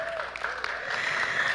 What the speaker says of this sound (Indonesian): Tepuk tangan dulu untuk mahasiswa.